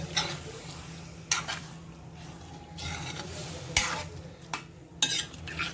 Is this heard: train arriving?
no